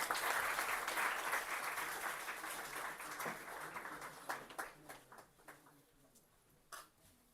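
Audience applause at a certificate distribution during an academic valedictory session, loud dense clapping at first that thins out into scattered individual claps as it fades.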